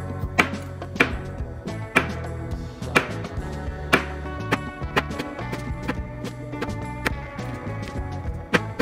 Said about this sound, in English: I just take a sclerotia like this, right? And then I just cut them very thinly, like that.